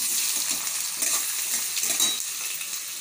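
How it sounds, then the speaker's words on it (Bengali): Chopped onions fry in hot oil in a kadai, crackling and hissing steadily with bright sizzle, while a metal spatula scrapes and clinks against the pan now and then. "এখানে কড়াই আমার গরম হয়ে গেছে, তেলটা দিয়ে দিয়েছি, তো আমি এখানে পেঁয়াজটা দিয়ে দেবো"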